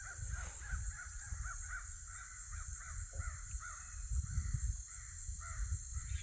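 Crows caw repeatedly in the distance, a steady series of harsh calls over constant background hiss and low rumble.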